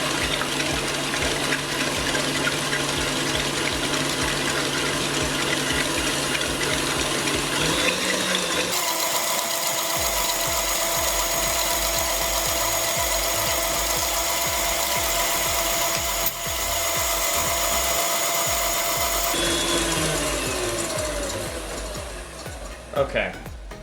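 An electric mixer runs on medium, beating butterscotch pie filling with butter, eggs and vanilla, giving a loud continuous whirring drone that shifts pitch partway through and stops near the end.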